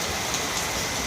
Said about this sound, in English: The rain comes and it goes. sometimes heavy, sometimes light.